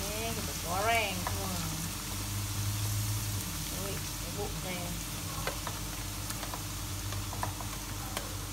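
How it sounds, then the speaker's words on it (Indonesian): Garlic frying in a pan for beef rendang dendeng gives a steady low sizzle throughout, with speech and kitchen clatter over it. "Lepas tu kita goreng pula bawang putih"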